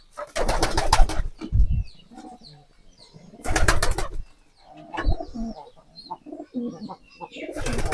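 Domestic pigeons kept on a farm coo and flap their wings in loud nearby bursts, with quieter cooing and rustling in between.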